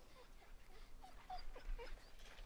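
A dog whimpering in The Walking Dead video game after it bites, faint high whines and yips repeating over a low background, with a voice briefly speaking.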